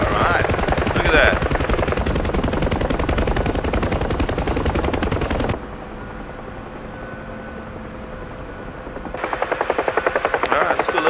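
A UH-1 Huey helicopter flies near the Burj Al Arab Hotel, its rotor beating in a loud, rapid chop that drops abruptly to a quieter hum midway, then returns with strong blade slap near the end.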